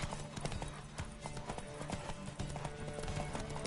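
Horse hooves clip-clop in a quick steady rhythm in The Witcher 3: Wild Hunt, close and prominent, with a busy layer of other game sounds around them.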